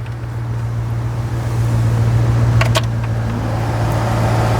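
Blower fan of a 1962 Chrysler Newport running on its low setting: a steady, even whirring hum inside the car with a faint low drone, broken by a couple of soft knocks midway, no talking.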